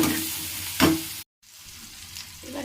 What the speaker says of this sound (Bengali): নুন হলুদ দিয়ে ভালো করে একটু বাদামি বাদামি কালার করে ভেজে নেব।